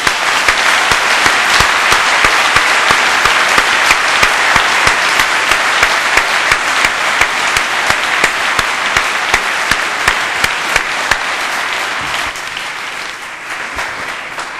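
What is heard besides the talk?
audience applause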